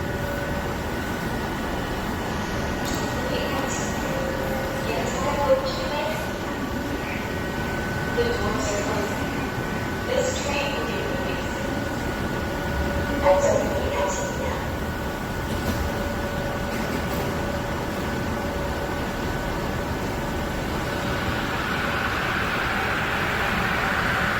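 Yongin light rail trains pass Everland station with a continuous broad rumble and rail noise, occasional clanks, and a rising whine near the end, while people talk in the background.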